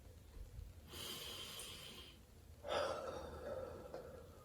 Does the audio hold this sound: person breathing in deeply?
yes